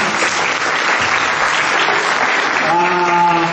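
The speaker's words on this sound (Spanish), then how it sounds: "siguiente, un aplauso." Dense, loud applause from a crowd at a children's storytelling performance, a steady wash of clapping that carries through and tails into a faint tone near the end.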